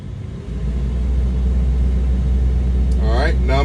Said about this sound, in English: So now I'm going to start my truck, put it to the on position.